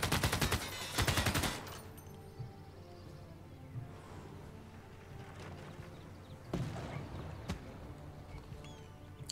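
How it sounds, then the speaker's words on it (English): Barbarian units in the strategy game Civilization 6 fire rapid bursts of gunfire, opening with a dense volley and then trailing into scattered shots and a few sharp cracks over low background sound. "I hear someone shooting"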